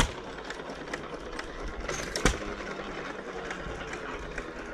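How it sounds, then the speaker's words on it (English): A 1915 Manco hired man engine drives an 1890 Atlas mill grinding wholemeal flour at a county show. It gives a steady mechanical chugging and rattling hum with one sharp knock partway through, and crowd noise sits faintly in the background. "It's my 1915 Manco hired man grinding wholemeal flour with a 1890 Atlas grinding mill."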